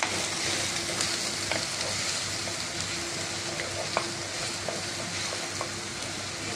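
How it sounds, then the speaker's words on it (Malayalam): Onions sizzle and soften in a hot pan while being stirred, a steady close frying hiss broken by occasional scraping and clinking from the spoon, with no voices. "ഇതൊന്ന് ചെറിയ മാതിരി വഴന്ന് വരുന്നവരെ നമുക്ക് ഇളക്കി കൊടുക്കാം."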